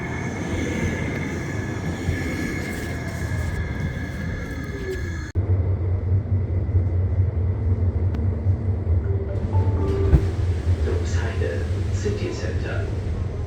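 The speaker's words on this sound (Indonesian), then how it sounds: "Lanjut naik kereta ke stasiun Hamburg." A train rumbles along the rails toward Hamburg station in a deep, continuous roar that shifts abruptly partway through, with faint muffled voices in the background.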